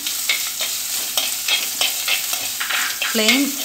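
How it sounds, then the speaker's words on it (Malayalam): Ginger garlic paste frying and being stirred in a pan for chicken thoran, with a steady close sizzle and repeated scraping strokes of a spoon throughout, no talking. "നമുക്കിനി ജിഞ്ചർ ഗാർലിക് പേസ്റ്റ് ചേർത്ത് കൊടുക്കാം."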